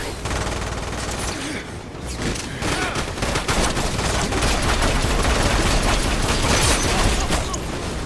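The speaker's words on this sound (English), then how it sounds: "Go and just gun them all down." Sustained automatic gunfire and rapid weapon bursts from the video game Lost Planet 2 during a train fight, loud and continuous with dense overlapping shots and no clear pauses.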